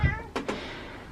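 A cat brought home from a dacha, kept indoors on a balcony with an infected eye, meows twice in quick succession, close and fairly clear, after a brief low thump at the start.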